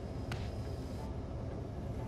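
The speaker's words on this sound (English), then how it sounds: "Canton Junction is fast approaching, and coming into the station, our train splits off onto the Stoughton Line tracks" An MBTA commuter rail train on the Providence Line nears Canton Junction, where it splits onto the Stoughton Line tracks. It gives a steady, close, full-bodied rolling rumble with one brief sharp click near the start.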